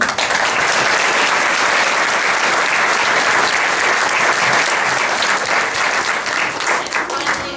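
Sustained applause from a crowd at a school gathering honoring staff members, a dense, even wash of clapping that holds steady for several seconds before tapering slightly.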